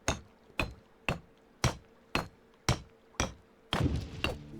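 Repeated hammer strikes from building construction in the video game Medieval Dynasty, eight evenly spaced sharp thuds about half a second apart, the last couple heavier and messier, with no talk.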